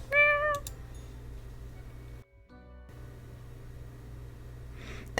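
A cat gives one short, clear meow near the start, followed by quiet room tone with a steady low hum.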